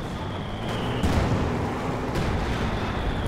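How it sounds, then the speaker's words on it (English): A dense, continuous roar of artillery fills a Company of Heroes 2 battle, with howitzer and phosphorus barrage fire landing as rumbling thuds and a few sharper cracks over steady battlefield noise. "Phosphorus barrage doing some good work. Ooh, that howitzer gets in there for a big hit."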